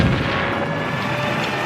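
A cannon fires in an audio drama, a loud sustained boom with a rumbling, rushing tail that fills the whole moment, no voices over it.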